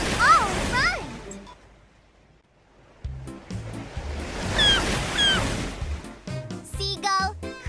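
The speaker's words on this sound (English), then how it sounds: "The sea sounds like it's singing." Surf washes in broad rushing swells, with a lull in the middle, while a voice and singing are heard over the waves.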